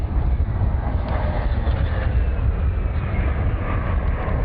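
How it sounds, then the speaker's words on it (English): Sukhoi Su-30 MKI fighter jet turning at an air show, a continuous heavy rumbling roar with a faint shifting whine, steady and fairly loud. "The aircraft has turned left and is positioning for the loop tumble yaw."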